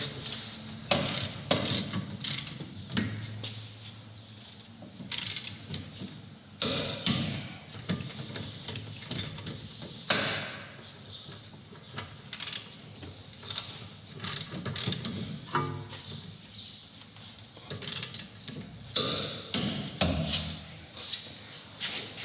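Ratchet tightening bolts on the rear brakes of a Toyota RAV4, giving repeated rapid clicking bursts in irregular runs, close and fairly quiet.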